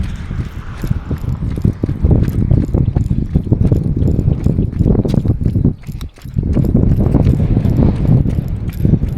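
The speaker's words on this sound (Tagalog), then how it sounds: "Mahangin na." Steady wind rushes and buffets a microphone outdoors during a jog, loud and gusty with a brief dip partway through.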